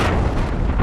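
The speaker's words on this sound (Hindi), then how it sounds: "और इसके बाद हिल उठती है धरती एक जोरदार धमाके के साथ।" A DRDO test explosion, one loud, broad blast rumbling steadily throughout with no pause or voices.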